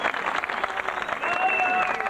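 An audience claps warmly at an Italian poetry prize ceremony in Chiesina Uzzanese, a short, full round of applause with a held tone sounding through its second half.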